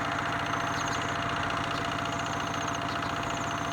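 A villagers' water pump engine, used to pump fish out of a rice-field pond, runs in a steady, continuous drone with a mid-pitched rhythmic chug, fairly close and constant throughout, with no talk.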